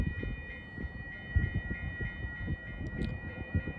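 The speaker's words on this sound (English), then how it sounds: "The train didn't shock me all that much." A train passing on nearby railway tracks on a chilly day, heard as a steady low rumble with repeated clattering wheel thumps, fairly close and continuous without voices.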